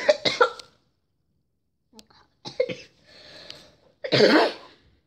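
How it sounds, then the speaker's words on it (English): Several harsh coughing bursts, close and loud, with pauses between them and a final longer, raspier cough at the end. "I was coughing."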